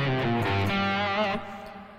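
Slow blues lick on electric guitar, sustained overdriven notes with bends ringing out loudly for a couple of seconds before fading slightly, no talking.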